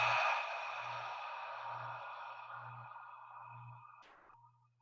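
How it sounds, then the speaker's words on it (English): Ujjayi ocean breathing with friction in the throat, one long hissing breath close by that slowly fades over several seconds, with a faint pulsing hum underneath and a short click near the end. "like the ocean sound. I call it the harder breathing. So you're creating friction in your throat."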